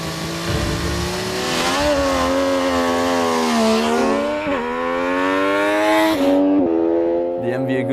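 An MV Agusta F3 three-cylinder motorcycle accelerates hard on a quarter-mile drag run, its loud engine note rising through the revs with brief dips at each gearshift, close and continuous before cutting off near the end.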